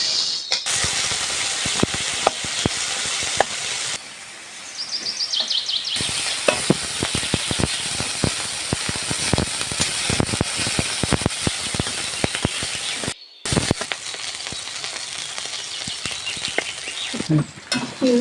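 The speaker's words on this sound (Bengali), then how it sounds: "চিংড়ি মাছগুলো ভেজে নেব।" About 100 grams of shrimp frying in hot oil in a kadai: a steady, close sizzle with scraping and clicking stirs scattered through it, broken by a couple of brief pauses, no talking.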